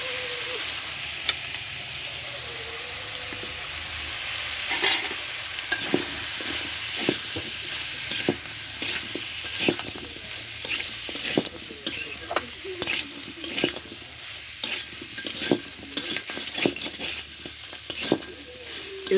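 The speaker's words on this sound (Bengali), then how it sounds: "এভাবে আমি 2 মিনিট নেড়ে চেড়ে নেব।" Boiled taro and crab pieces are stirred in a frying pan, giving repeated scraping strokes in an irregular rhythm over a steady sizzle, close and moderately loud, with no talking.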